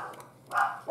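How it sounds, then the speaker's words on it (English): Two small Pomeranian dogs yip and bark indoors, with short sharp barks rising near the end of a brief stretch. "I apologize about the dogs."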